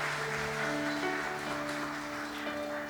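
A church congregation at a Sunday worship service applauding the Zion choir, heard as a steady, dense wash of clapping hands with sustained musical tones beneath it.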